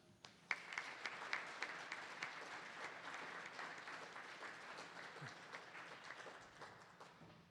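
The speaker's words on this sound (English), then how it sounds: "help welcome each candidate with a warm round of applause" An audience at a Spokane city council candidates' climate change forum gives a warm round of applause, steady dense clapping that holds for several seconds from a mid-sized crowd in a hall, then slowly thins.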